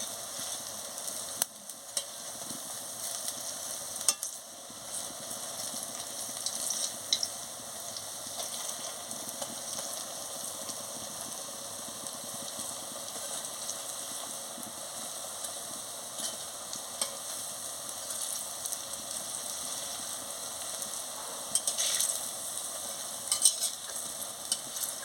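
Drumstick flower fritters (sajne phool bora) deep-frying in hot oil, a steady close sizzle and bubbling crackle running throughout with occasional light clinks of a spatula, no voices.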